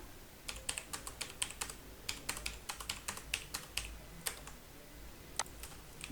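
Quick bursts of typing on a computer keyboard, crisp clicky keystrokes in uneven clusters with short pauses, close and fairly quiet with no talking.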